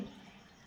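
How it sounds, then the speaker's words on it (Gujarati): Water trickles and drips into onion bhaji (kanda bhaji) batter being mixed by hand, a short close, soft pouring with faint dripping and no voices. "આ રીતે થોડું થોડું પાણી એડ કરીને બેટર બનાવવાનું"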